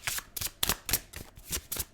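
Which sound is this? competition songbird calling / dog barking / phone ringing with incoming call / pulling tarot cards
pulling tarot cards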